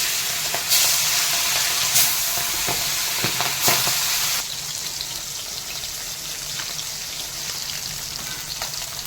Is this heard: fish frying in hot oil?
yes